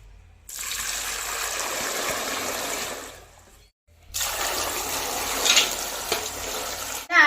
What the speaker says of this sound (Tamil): இந்த நாட்டு மாங்காய் இப்போ நல்லா அலசிட்டு நம்ம வத்தல் போட்டுக்கலாம்